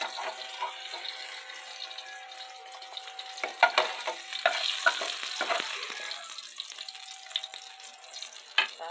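Fish sizzles and fries in a pan with hot oil, a steady crackling hiss close by, broken by sharper pops and spatters as the pieces settle.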